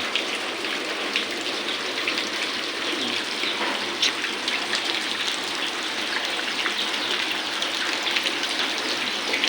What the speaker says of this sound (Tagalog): Dahil umuulan, walang tigil